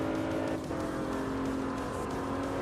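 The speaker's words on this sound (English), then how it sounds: "It's really fun to send it around in that old BMW on this track." An old BMW race car in the Assetto Corsa racing sim holds a loud, steady engine drone at high revs throughout, with a brief dip in the note partway through as it drives around the track.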